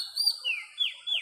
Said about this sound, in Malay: Burung-burung nampak. Burung bunyi nampak.